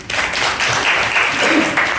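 Students clapping together at a school hygiene campaign in a Hindi-medium school, a dense steady burst of applause filling the room for about two seconds, fairly loud and close.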